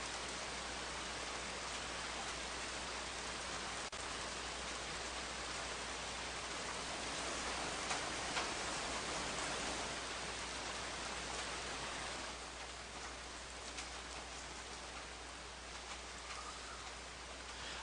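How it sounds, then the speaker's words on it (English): Recorded rain pattering on a roof, a thick continuous hiss that swells slightly midway and eases a little toward the end, with no voices. "Rain on roof."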